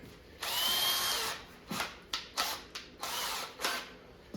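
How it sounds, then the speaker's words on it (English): A power drill with a 1/8 inch bit whirs in a sustained burst into an arcade cabinet, then runs in a series of short, choppy pulses, close and fairly quiet. "So I'm going to start with like an 1/8 inch drill bit."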